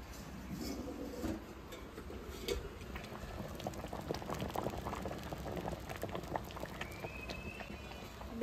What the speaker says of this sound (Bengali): আর অনেক ফুটবে